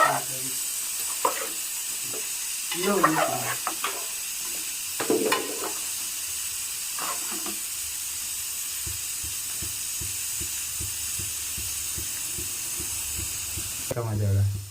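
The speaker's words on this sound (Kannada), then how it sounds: "ಕೊತ್ತಂಬರಿ ಸೊಪ್ಪು, ಪುದೀನ ಸೊಪ್ಪು, ಟಮಾಟ, ಈರುಳ್ಳಿ, ಬೆಳ್ಳುಳ್ಳಿ ರುಬ್ಕೊಂಡಿರೋದನ್ನ ಫ್ರೈಗೂ ಹಾಕಿದ್ದಾರೆ" A ground paste of coriander leaves, mint, tomato, onion and garlic fries in a pan for chicken skin fry, giving a steady soft sizzle with occasional stirring scrapes, under intermittent talk and a few louder bursts near the end.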